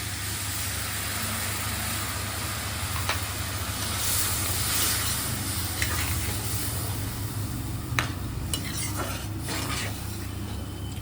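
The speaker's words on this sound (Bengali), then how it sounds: "এবার এর মধ্যে আমি এক কাপ গরম জল দিয়ে দিচ্ছি" Hot water added to a butter garlic prawn mixture in a pan, producing a constant loud sizzle and hiss with occasional stirring scrapes.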